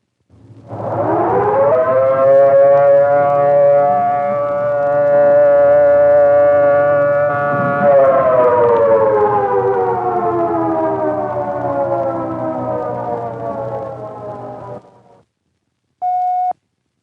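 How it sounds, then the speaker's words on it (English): A loud US civil defense alert signal siren sounds one long, steady wail for about fifteen seconds, its pitch sagging slightly partway through, then a brief separate tone follows. "The alert signal is a steady blast of 3 to 5 minutes, like this."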